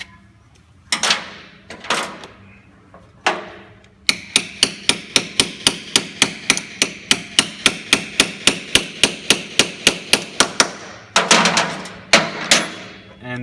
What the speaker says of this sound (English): You'll have to tap it in.